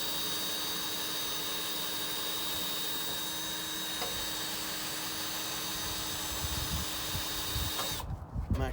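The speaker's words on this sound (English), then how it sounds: "you're going to use your 1/2-inch drill bit to drill a hole into the wood itself" A power drill fitted with a 1/2-inch bit bores into a wooden board at a stucco home's deck build, a steady whirring grind running continuously close by, with a louder rough burst near the end.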